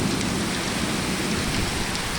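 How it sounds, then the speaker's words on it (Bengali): Heavy rain pours down in a dense, steady hiss and patter that stays loud and even from start to finish, with no voices. "আমাদের এখানে তো প্রচুর বৃষ্টি হচ্ছে।"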